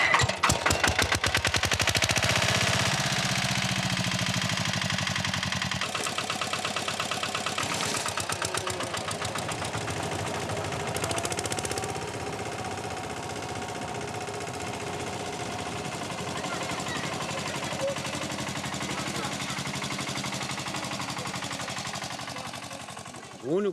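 An old tractor engine, a museum-piece machine started with a pull rope, chugs loudly in rapid, machine-gun-like firing throughout, settling into a steady running rumble close by.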